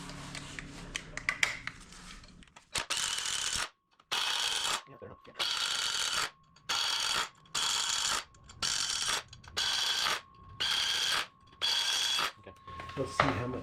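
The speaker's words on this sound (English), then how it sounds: "I'm holding the pulley and the wrench in one spot." Ratchet wrench tightening VR6 flex plate bolts on a torque converter install, heard as about nine loud, evenly spaced bursts of rapid clicking with short pauses between, close up and alone after some brief handling noise.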